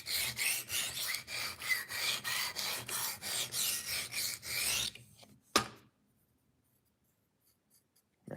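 A knife drawn across a diamond sharpening stone gives close, rhythmic rasping strokes, about a dozen even passes in a row, followed by a single sharp knock and then near silence.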